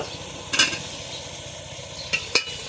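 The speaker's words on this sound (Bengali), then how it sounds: "এখন টমেটোগুলো দিয়ে দেব" Tomatoes go into a pan of mutton being cooked with little oil, a steady close sizzle underneath with a few sharp metallic scrapes of a spatula stirring, no voices.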